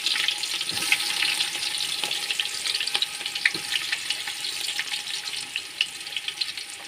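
Onions frying in a pot with whole spices like bay leaf, cardamom and cinnamon, a steady crackling sizzle up close with occasional stirring clicks, no voices.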